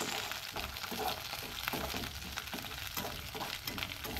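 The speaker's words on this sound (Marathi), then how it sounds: "मिरसांगो इल्लोसो करपीठ हे सगळें पयलीं न्हय भाजून घेवंक जाय।" Dried chillies, garlic, spices and curry leaves roast in a pan with a soft, continuous crackling sizzle and faint rhythmic stirring scrapes, quiet and close, with no voices.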